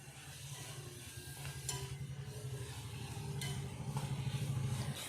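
Onion, ginger and garlic sautéing in a pan for paneer butter masala, giving a steady low sizzle and stirring scrape that swells slightly toward the end, with no talking.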